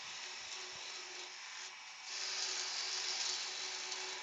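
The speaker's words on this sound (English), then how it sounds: "Just making a wee relief cut here" A relief cut on a small wooden cocktail stick holder gives a steady, close rasping hiss that grows louder and harsher partway through, continuous with no talk.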